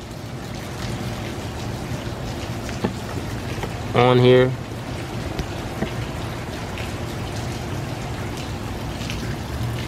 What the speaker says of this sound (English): it's raining in the metropolitan Washington DC